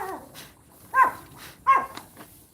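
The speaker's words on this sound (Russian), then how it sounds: "Собаки мои что-то почувствовали." Dogs give a few short barks and whimpering yelps, spaced about a second apart, fairly close, in a quiet setting with no talking.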